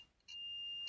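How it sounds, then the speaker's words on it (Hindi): Multimeter continuity tester sounds a sustained high electronic beep that starts abruptly and holds for most of a second before cutting off, alone and clear. "ये कंटिन्यूटी बीप मार रहा है"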